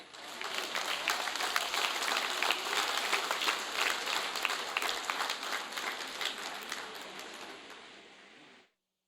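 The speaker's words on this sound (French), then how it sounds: "Nous applaudissons bien fort." Audience applause at a ceremony commemorating the 190th anniversary of the abolition of slavery: a dense, sustained wash of many hands clapping for about eight seconds, steady and full before thinning and fading out at the end.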